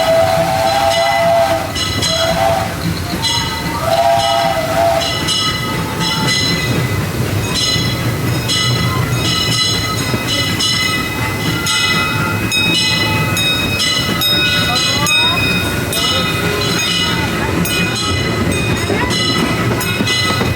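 A Disneyland steam train rumbles steadily along the tracks with clattering wheels and metallic squeals, bells and tones ringing above the constant mechanical noise.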